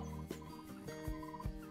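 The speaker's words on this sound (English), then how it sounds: "I'll call in those turkeys for you." Turkey gobbling in a hunting video game, a few short clucking bursts from a game bird, moderately close, with no voices.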